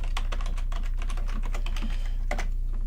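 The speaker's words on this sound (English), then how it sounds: "So let's just type git and then create a branch." Rapid typing on a computer keyboard, a steady close run of light key clicks with a brief louder burst near the end, under a constant low hum, no voices.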